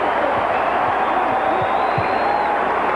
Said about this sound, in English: And that has the crowd going again.